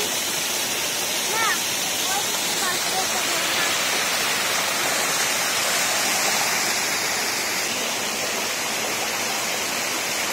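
Water rushing steadily along a stream near Belpahari, a dense continuous broadband wash that stays constant throughout, with no distinct voices standing out above it.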